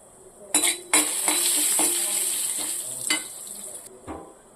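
Cumin seeds, mustard seeds and turmeric frying in a pan: a bright, steady hiss of sizzling oil with a few sharp clinks and scrapes of a spoon against the pan, close up.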